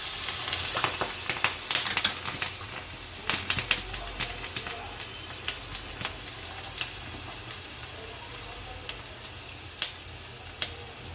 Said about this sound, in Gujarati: 2-3 મરચાં સુધારી નાખી દેવું.